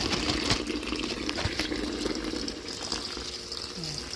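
Water runs and pours steadily into a container to soak freshly picked dandelion flowers for tea, a continuous close splashing gush with faint background noise throughout.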